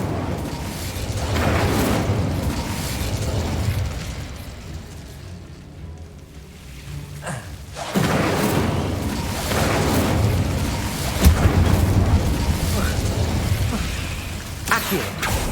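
Incendio fire spell blasts in Hogwarts Legacy, rumbling bursts and whooshing booms rising and falling over about fifteen seconds, loud and full, with a quieter lull midway and a sharp pop near the end.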